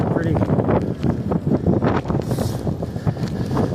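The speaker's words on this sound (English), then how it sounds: "definitely a good workout because riding against the wind" Headwind buffets the microphone in heavy, continuous gusts while riding a bike through an east end neighbourhood, a voice talking underneath the rumble.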